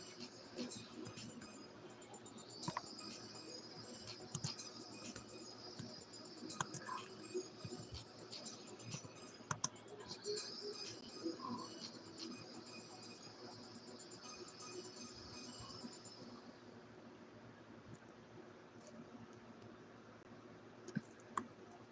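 Fast, uneven clicking of computer keyboard keys being typed on, continuous and fairly close, with faint scattered background noise and no talking over it.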